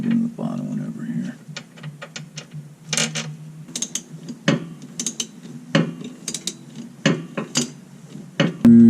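A ratchet tightens bolts on the rear hub of a 2015 Toyota RAV4 during a hub bearing replacement, giving sharp metallic clicking bursts in uneven runs, close by, with someone talking in between.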